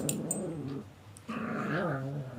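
A dog growls low and close, with a whimpering yip and a rising whine partway through. No voices are heard.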